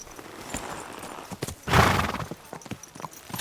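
Horse hooves clip-clop and a whinny in the medieval game Kingdom Come Deliverance 2, with scattered hoof beats, then a loud, rising neigh mid-clip before steady hoof steps resume.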